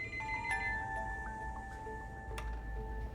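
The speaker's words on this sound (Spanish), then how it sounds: "en ese momento el teléfono sonó" A telephone rings in a quiet indoor scene, with faint, thin electronic ringtone tones repeating over a soft background hum.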